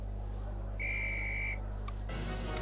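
A referee's whistle in the Harry Potter and the Philosopher's Stone game gives one clear, steady blast lasting under a second, heard on its own over a low game hum.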